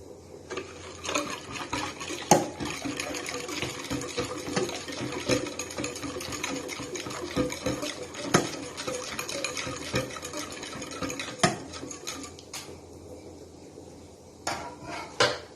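Dough for small stuffed flower-shaped bread rolls is mixed with oil and salt in a bowl, making a continuous close clatter of scraping and knocking with a few louder bumps and a brief lull near the end.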